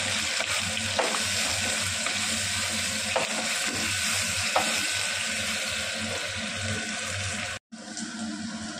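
Green and dry chillies with turmeric frying and being stirred in a pan, a steady close sizzle throughout with a few faint clinks, then a brief dropout near the end.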